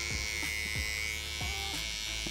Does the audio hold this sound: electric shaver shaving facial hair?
yes